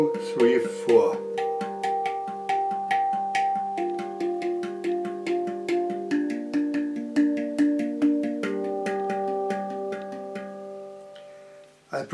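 Hang handpan played alone in a repeating rhythm pattern with a quick doubled stroke, close and resonant, each struck note ringing with bell-like sustained overtones under a steady pulse of taps.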